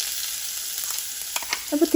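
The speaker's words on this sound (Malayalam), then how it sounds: "അതിനകത്ത് കടുക് താളിക്കാം നമുക്ക് കടുക് പൊട്ടിക്കാം" Steady hot-oil sizzle with a burst of sharp pops and crackles near the end as mustard seeds splutter in a pan.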